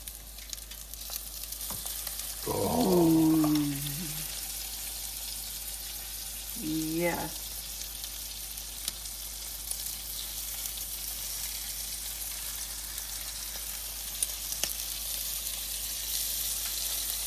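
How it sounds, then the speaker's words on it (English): Crab cakes fry in butter with a steady, fairly quiet sizzle and crackle that runs throughout, while a voice speaks briefly twice early on. "now they're cooking on the other side with the butter that I had on top"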